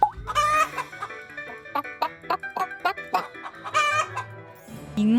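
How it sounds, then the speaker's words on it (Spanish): Chicken clucking and crowing in a rapid, loud series of rhythmic calls, close and clear with no talking, set within a children's animal sounds song. "Suena como un pollo."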